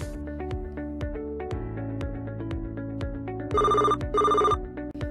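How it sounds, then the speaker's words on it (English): A telephone rings with a bright electronic tone, repeating in a looping pattern over a plucked musical backing, loud and close, with two sustained ringing bursts near the end. "What's that ringing? A bell?"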